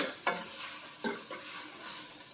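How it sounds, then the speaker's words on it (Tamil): Onions with salt sauté in a pan for a brinjal and dal gravy, a constant sizzle broken by a few scraping stirs of a spoon, close and without voices. "தேவைப்பட்ட உப்பு, வெங்காயம் வதக்கிறது கொஞ்சம் போட்டால் தேவையான உப்பு போட்டு நல்லா வதக்கிட்டு"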